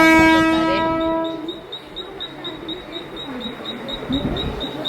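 A train horn blares at the start, then fades into a busy hum on the Dadar station platform in Mumbai with a steady high-pitched repeating beep and distant chatter.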